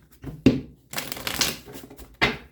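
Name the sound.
shuffling tarot cards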